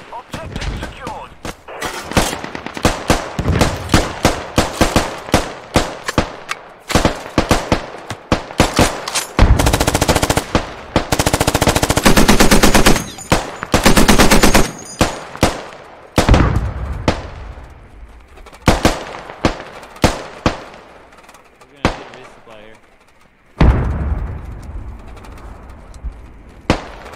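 Dense automatic gunfire in the video game Squad, with long rattling bursts and single cracks close by, while players shout over the shooting.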